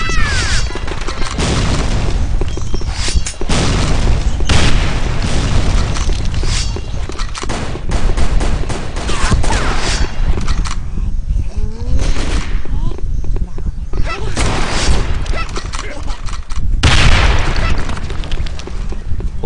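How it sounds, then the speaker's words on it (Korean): Grenade blasts and bursts of gunfire ring out in the online shooter Sudden Attack, loud repeated booms and rattling shots layered densely with a player talking over the action. "임무를 성공적으로 완수할 수 있도록 수류탄 투척."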